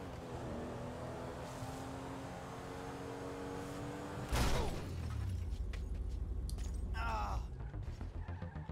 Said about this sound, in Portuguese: Qual batida de carro é mais realista?